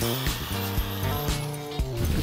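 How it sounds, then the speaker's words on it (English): A power drill bores a hole into a cement clay pond sculpture, a steady whining motor hum with the pitch dipping and rising as the bit bites in, continuous and fairly close. "So now we just have to drill this back hole here."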